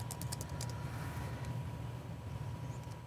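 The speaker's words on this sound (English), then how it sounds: "So here I'll type in Microsoft" Quick clicking keystrokes on a computer keyboard come in a short burst near the start, followed by a few sparse taps over a steady low hum, fairly faint and close.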